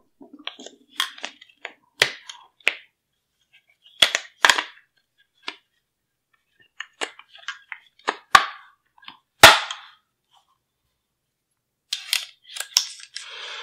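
Parts of a DPMS GII AP4 rifle clack and snap together in short, sharp metallic clicks, scattered in irregular bursts with quiet gaps between them, close up and with no talking.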